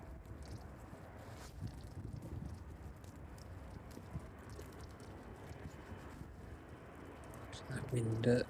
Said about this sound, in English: That wind really picking up now